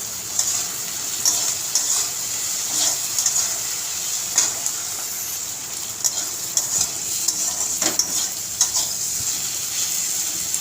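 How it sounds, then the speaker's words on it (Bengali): Tomato, chili and salt frying and being stirred in a pan for a prawn and potato curry, a steady moderate sizzle broken by repeated scraping clicks of the spoon, close and without talk. "এটা সুন্দরভাবে ভাজা ভাজা হয়ে গেছে।"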